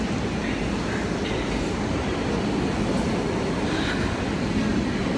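Loud, steady rumble and rattle inside a moving subway train in Brooklyn, filling the whole clip with dense, even noise and no clear breaks.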